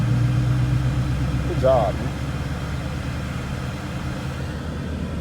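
Small manual-transmission car engine running steadily under a learner driver pulling away in second gear, a low continuous drone with a brief rising rev near the start, while an instructor talks over it.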